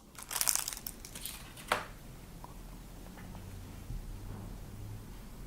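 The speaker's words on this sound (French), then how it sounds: "Je prends ici un petit morceau d'adhésif blanc." Small piece of white adhesive tape handled while fitting a transponder into a replacement Volkswagen folding car key housing, a brief close burst of crinkling followed by a sharp crackle and then faint soft rustles.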